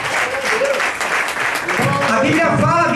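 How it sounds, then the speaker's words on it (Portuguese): A church congregation claps for Jesus in a continuous dense wash, with voices talking or singing over the clapping, growing stronger toward the end. "as palmas para o Senhor Jesus"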